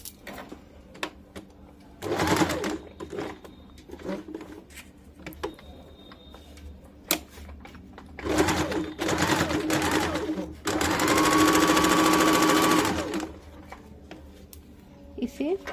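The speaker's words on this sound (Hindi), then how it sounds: "आइए मैं इसे सिल के बताती हूँ।" Sewing machine stitching the seams of a katori cut blouse, running in several bursts of steady mechanical whirring with quiet pauses between, the longest run near the end, and faint handling sounds in the gaps.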